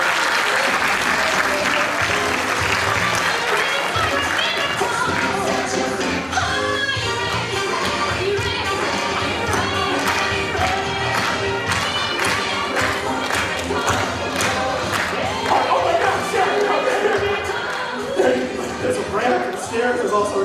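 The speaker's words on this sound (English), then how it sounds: "Let's give Sherry a huge round of applause." At a comedy magic show, the audience claps and cheers for a volunteer called up on stage, loud continuous applause with voices and music running through it the whole time.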